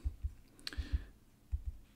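Computer keyboard typing while writing on a blank Keynote slide: a few soft, close, low-pitched key taps spaced in small pairs, with no voices.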